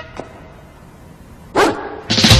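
Dogs bark in a scene from the 2008 film Beverly Hills Chihuahua: a faint early yip, then after a quiet stretch a loud burst of barking and another close, loud bark at the end.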